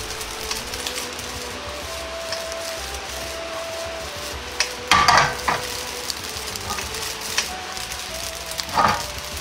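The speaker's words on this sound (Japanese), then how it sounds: "押し出すようにしてフライパンの反ったところでチャーハンを返します。" Fried rice sizzles steadily in a frying pan during a professional cook's tossing technique, with two louder scraping, rattling bursts as the rice is flipped against the pan's curved edge. No one speaks.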